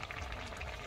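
Fish curry broth bubbles in a pot over a village cooking fire, a soft, steady simmering burble, faint and close, with no voices.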